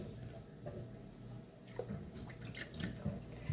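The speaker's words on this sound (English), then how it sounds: "I can never just rinse my meat once." Pork being rinsed with water in a bowl inside a sink: running tap water with splashing, sloshing and squishy handling sounds, moderately close and uneven, no talking.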